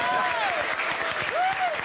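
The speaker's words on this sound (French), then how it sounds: "Merci Pierre Palmade, applaudissements pour lui." A television studio audience claps for a guest comedian, moderate applause under a host's voice whose rising tones run over it, brief and somewhat muffled.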